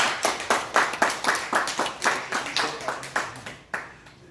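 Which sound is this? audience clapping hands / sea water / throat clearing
audience clapping hands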